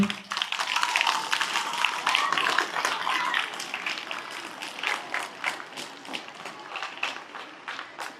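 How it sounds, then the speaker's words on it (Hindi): A yoga class audience gives hearty applause for a headstand demonstration, dense and loud for the first few seconds, then thinning into scattered, sparser claps. "एक बार इसके लिए जोरदार ताली।"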